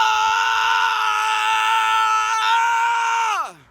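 A sustained, harmonically rich Kurt Cobain-style vocal scream holds steady and loud for over three seconds, then drops and trails off abruptly at the end.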